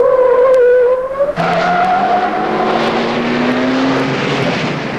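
A 1973 Ford Maverick Grabber race car at the Interlagos circuit, its engine loud and close as it drops to first gear for a slow corner, then revs steadily rising while accelerating away, with no talk.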